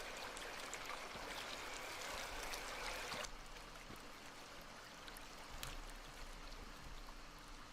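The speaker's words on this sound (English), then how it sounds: "Credit to the sound design. I like hearing that water." Steady flowing water in the horror game Inunaki Tunnel, a continuous stream-like trickle that is denser and louder for the first few seconds, then settles into a softer, even flow with faint scattered clicks.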